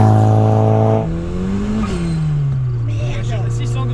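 A Volkswagen Golf GTI 20VT engine screams near the rev limiter with a loud, buzzy tone, then drops off after about a second and settles into a lower, steady drone.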